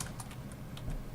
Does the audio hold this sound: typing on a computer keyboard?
yes